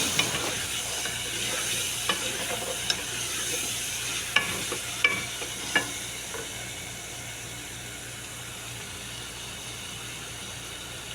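Onions with cardamom and whole garam masala spices fry in a pan, giving a steady sizzle and hiss broken by scattered crackles and the scrape of stirring, close and fairly quiet, with no talking.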